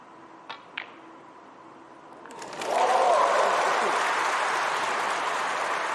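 Snooker crowd bursting into applause after two faint clicks, the clapping swelling suddenly and holding loud and sustained in the arena, with a voice briefly audible beneath.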